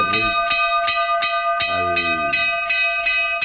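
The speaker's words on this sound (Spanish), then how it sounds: "ahí está sonando la campana" A school recess bell rings in a fast, even series of loud metallic strikes with long ringing overtones. It continues steadily throughout, close and dominant.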